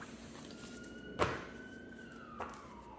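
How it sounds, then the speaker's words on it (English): A siren wails faintly in the distance, its tone gliding slowly, with a couple of sharp knocks close by. "Sorry about the sirens, guys."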